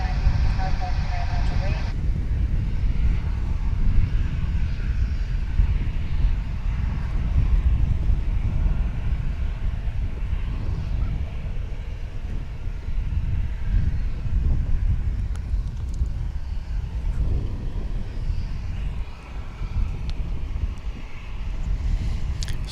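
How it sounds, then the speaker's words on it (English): A jet airliner at DFW International Airport, bound for San Antonio, gives a continuous deep, broad roar that stays loud throughout, mixed with outdoor wind rumble. "So that was the plane that's going to San Antonio."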